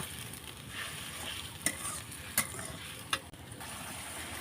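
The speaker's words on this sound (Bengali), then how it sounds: "হলুদের গুঁড়া শুকনো মরিচের গুঁড়া জিরের গুঁড়া ধনিয়ার গুঁড়া সবগুলো আমি ভালোভাবে এখন নেড়ে নেব" Turmeric, chili, cumin and coriander powders frying in oil for khichuri hold a steady soft sizzle, broken by three distinct spoon scrapes against the pan; no talking.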